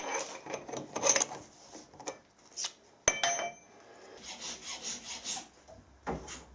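A machined metal part for a camera mount is hand-finished and deburred in a workshop, with irregular scraping and filing strokes, rubbing bursts and a sharp metallic click partway through.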